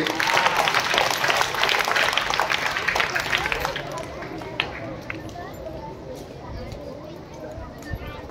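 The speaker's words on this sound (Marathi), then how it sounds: "टाळ्या वाजवा याच्यासाठी" Schoolchildren in a classroom break into a burst of clapping that fades out over several seconds, leaving a lower murmur of scattered claps and voices.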